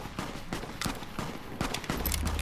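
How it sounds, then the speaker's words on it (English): Gunshots ring out in Fallout New Vegas, a string of separate sharp reports spaced roughly half a second apart at moderate loudness, with no talking over them. "Who's shooting?"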